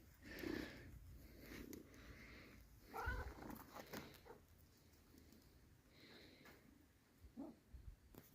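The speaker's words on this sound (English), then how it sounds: "feed this little wild cat that's adopted us" A small wild cat gives close, soft meows and purring mixed with sniffs and snorts, in short bursts over quiet background noise, with no talking.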